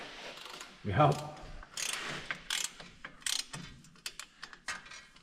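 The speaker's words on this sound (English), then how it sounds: "Gotta remember to turn the ratchet on." A ratchet wrench working on a Jeep in a workshop gives close, crisp bursts of clicking in uneven short runs, with a brief spoken word at one point.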